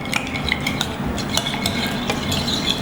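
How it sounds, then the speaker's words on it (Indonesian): A sauce of ketchup, oyster sauce, sugar and sweet soy sauce being stirred in a bowl, with a steady run of close, scraping spoon clinks and taps against the side, no talking. "Kita aduk dulu ya."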